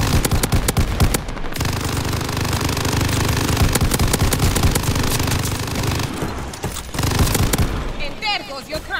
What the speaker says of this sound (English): There is so many machine gunners.